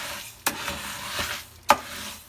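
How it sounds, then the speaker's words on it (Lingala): A spoon stirs rice in an ordinary cooking pot, giving two sharp scraping clinks against the metal and softer scuffs between them, close and alone over a faint sizzle. "totie loso na biso lutu na biso akobalola loso yango"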